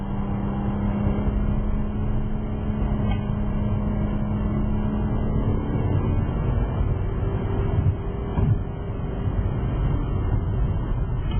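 A Subaru 3-litre flat-six engine runs steadily from inside the car, a low continuous rumble with a faint tonal hum, holding a fairly constant level with slight swells and no talk.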